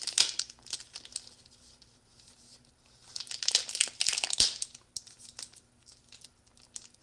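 Plastic packaging on a smoked ham hock being cut and torn open close up, with bursts of crinkling and crackling separated by quieter pauses.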